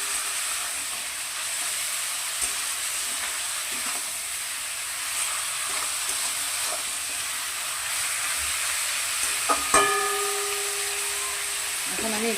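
Mutton pieces frying and being stirred with salt in a pan for mutton kosha, a steady hissing sizzle with occasional scraping stirs and a few clinks near the end, close and fairly loud.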